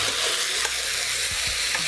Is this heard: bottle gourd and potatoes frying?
yes